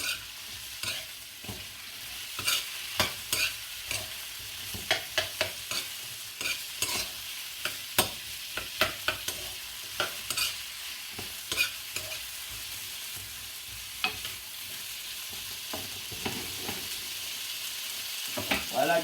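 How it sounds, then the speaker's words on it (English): Seasoning frying in oil in a pot for a steamed fish dish, a steady close sizzle with frequent sharp clicks and stirring scrapes scattered throughout, no talking. "So you can fry up the seasoning so you can get all the flavors from it."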